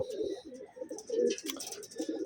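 Racing pigeons cooing close up in a loft, repeated soft throaty coos overlapping in a steady rhythm with faint chirps behind.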